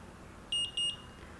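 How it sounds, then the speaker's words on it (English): An Omnipod 5 insulin pod beeps twice after being filled with insulin: two short, high, clean electronic tones in quick succession over a quiet background. "that's the 2 beeps"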